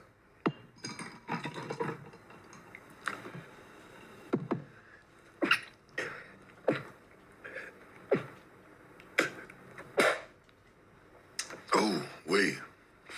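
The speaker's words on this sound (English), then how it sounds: "Four sneezes, man, I'm extra blessed." A man sneezing repeatedly, a series of sharp close bursts spread over several seconds with short pauses and throat noises between them.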